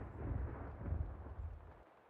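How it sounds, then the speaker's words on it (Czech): A muffled, distant rumble of an explosion in the video game Max Payne 2 rolls on for a couple of seconds, low and faint, then dies away. "Celkem výbuch, aha"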